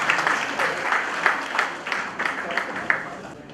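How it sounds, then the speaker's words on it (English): A conference audience at an MSME conclave applauds speaker Hari Krishna Holla, a moderate round of clapping with distinct sharp claps standing out, fading in and out and thinning toward the end. "Please put a round of applause for Mr."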